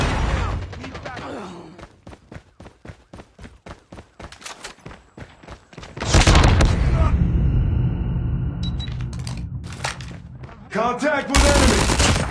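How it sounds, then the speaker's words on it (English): In the mobile shooter game Call of Duty Mobile, rapid rifle gunfire cracks in a quick burst, then a Predator missile strike lands with a loud, roaring boom that rumbles on and dies away under game voice lines. "Friendly Predator missile inbound."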